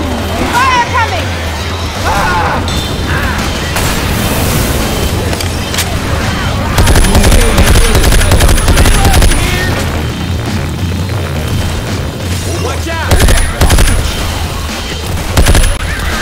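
Machine gun fire in a video game crackles through loud, continuous battle noise with explosions, while voices talk over the din.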